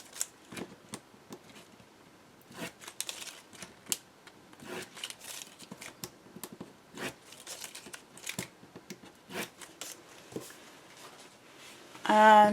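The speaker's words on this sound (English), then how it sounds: "remove my tape backing" Backing is peeled off adhesive tape during album construction, heard as a string of brief crisp tearing and crinkling bursts with quiet gaps, close and sparse, ending in a louder rustle.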